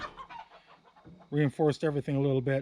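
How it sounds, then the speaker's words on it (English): Chickens cluck loudly in a burst of several rapid calls from inside a coop behind the listener, following a stretch of someone speaking quietly. "You can hear the chickens messing around inside the coop right now"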